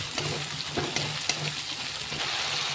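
Chopped tomato sizzles in hot oil with fried onions and ginger garlic paste, a steady close crackle of frying with soft stirring scrapes and no talking.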